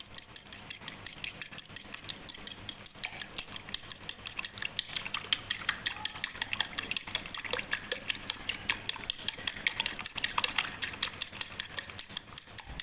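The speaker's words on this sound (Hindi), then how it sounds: "यहाँ पर जो एग्स हैं वो अच्छे से बीट हो गए हैं।" Eggs with salt and pepper are beaten in a bowl, a fast, even run of metallic clicks and taps that continues steadily throughout.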